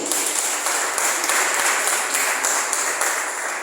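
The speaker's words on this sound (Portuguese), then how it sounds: "Você pode aplaudir o Senhor?" Church congregation at a family worship service applauding in praise, a loud continuous wash of many hands clapping with slight surges in intensity throughout.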